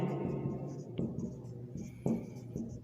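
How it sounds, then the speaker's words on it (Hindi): Chalk or marker scratches quietly across a classroom board in short strokes, with a few sharper taps as it strikes the surface, close by and alone. "तो ये बात मैं आपके सामने लिख देता हूं"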